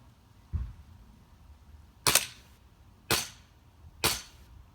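Elite Force 1911 Tac airsoft pistol fired in quick succession: a soft thump, then three sharp, snappy cracks about a second apart, close and loud against a quiet room.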